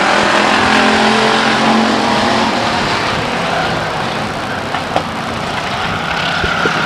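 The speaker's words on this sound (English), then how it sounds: "Amy Sullivan jumps underneath the 65 car, hard into turn 3." Stock race cars roar around the oval at Stockton 99 Speedway, a dense continuous engine drone from several cars at once, loud and steady with no talk over it.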